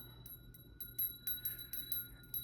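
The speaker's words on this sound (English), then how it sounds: "So let's go ahead and ring the bell." A bell is rung several times in quick irregular strikes, each giving a faint bright metallic ping over a quiet low hum, soft and close with no talking.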